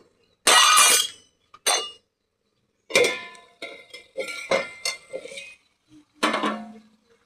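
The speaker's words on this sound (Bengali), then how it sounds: "বন্ধুরা ঢাকনাটা খুলে দেখবো।" A metal lid is lifted off a covered cooking pot of mutton curry with flat beans, giving loud clanks and clinks of metal on metal in several separate bursts with quiet gaps between them.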